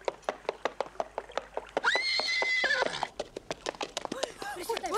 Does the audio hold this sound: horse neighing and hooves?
yes